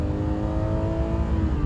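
A 1998 BMW M1 engine revs hard past 3,500 rpm after a downshift, a loud, close, sustained mechanical roar with steady harmonic tones and no voices.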